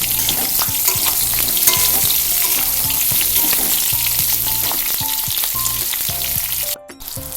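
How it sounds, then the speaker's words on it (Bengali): Pointed gourd (potol) pieces fry in hot oil in a pan, producing a loud, continuous sizzle with rhythmic stirring scrapes and clinks close by. "প্রত্যেকটা পটল দিয়ে দেবো, দিয়ে পটলগুলো একটু লাল লাল করে ভাজবো।"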